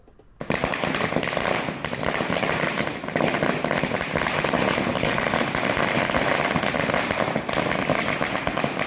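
Diwali firecrackers burst in a residential area of Puducherry, starting abruptly after a quiet moment into a dense, continuous crackling barrage of pops and bangs that stays loud and unbroken to the end.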